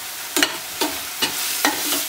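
Ginger garlic paste frying with onions in a pan, a steady soft sizzle broken by four or five sharp scraping stirs at regular intervals, close by and with no talk.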